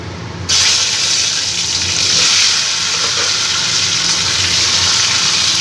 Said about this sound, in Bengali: গাঁটি কচুগুলো এবার আমি ভেজে নেব